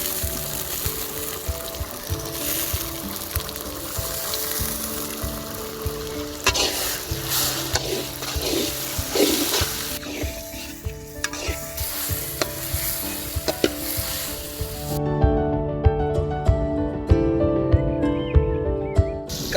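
Tomatoes dropped into golden fried onions in a village-style squid pepper fry, a dense close sizzle with stirring scrapes, shifting in texture midway, ending with quieter clinks and stirs as a tonal sound lingers beneath.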